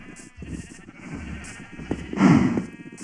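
Several cows crowd a pen in the Minecraft video game, their calls overlapping in a steady run of short, low lowing sounds heard fairly close.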